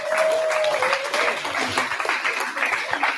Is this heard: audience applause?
yes